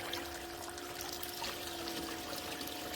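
Water flowing steadily through a homemade DIY sluice mat, a soft continuous trickle and pour with a faint steady hum beneath it, fairly quiet and unbroken.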